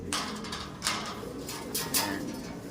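A pigeon coos close by, with several soft fluttering bursts that sound like wings as it arrives.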